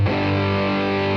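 An electric guitar played through a Caline CP-34 Head Room distortion pedal set to high drive in normal mode: one loud, sustained, fuzzy chord ringing thick and saturated for just over a second.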